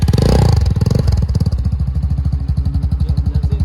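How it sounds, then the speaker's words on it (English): Dong Fang CXR STR 250 sport motorcycle engine idling nearby, a steady loud rhythmic exhaust rumble with evenly spaced low pulses, briefly rising at the start before settling into a lumpy idle. "That exhaust tip, that rumble on the end, is pretty cool."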